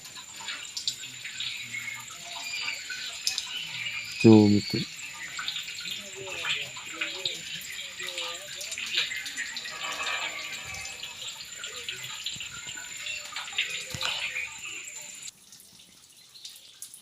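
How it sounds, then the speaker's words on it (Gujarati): A constant stream of water pours down at a Mahadev temple, its steady rushing splash heard close and continuous while someone talks over it. "આમ ને આમ આ પાણી પડે જ છે આ પાણીની ધારું થાય છે"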